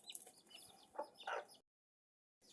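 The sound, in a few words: chickens clucking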